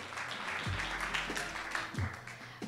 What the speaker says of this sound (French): on peut encore l'applaudir, Lisette, championne belge.